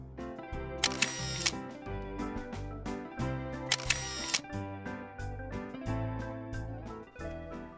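Camera shutter firing in quick bursts while photographing freshly caught fish on a riverbank, two clusters of rapid clicks heard over loud, steady background music.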